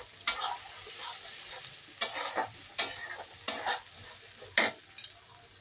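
Spice paste being sautéed in a pan gives a soft continuous sizzle, punctuated by about six distinct scraping stir strokes spaced roughly a second apart, close and clear with no voices.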